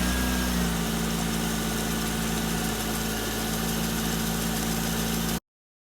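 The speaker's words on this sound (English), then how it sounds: "we're going to start the engine" An Acura TL Type S V6 engine idles steadily with a low, even hum and constant vibration, close and alone with no voices.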